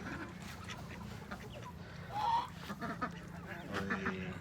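Faint duck honks and quacks rise briefly over a low, steady background hum, with no voices.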